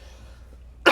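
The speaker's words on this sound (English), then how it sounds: "Hold on, I got a cough." A single sharp cough bursts out near the end after near silence, close and loud, from a man playing Elite Dangerous.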